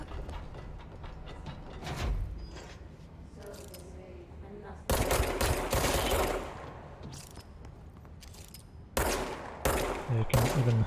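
Automatic gunfire in the video game Control, fired at objects in an office-like space, comes in several loud broadband bursts with mechanical clatter, impacts and breaking debris between them, and faint talk underneath.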